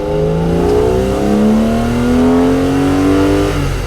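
A BMW E9 coupe fitted with an E34 M5 S38 engine revs loudly and steadily up through the rpm range, a rising mechanical engine note held close and continuous with no talk.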